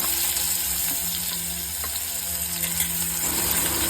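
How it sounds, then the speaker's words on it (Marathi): Chopped curry leaves and onion sauté in hot oil with asafoetida for a Malvani cashew curry, giving a steady close sizzle with occasional soft stirring scrapes. "चिरलेला कढीपत्ता आणि कांदा टाकून तेलावरती परतून घ्यावा"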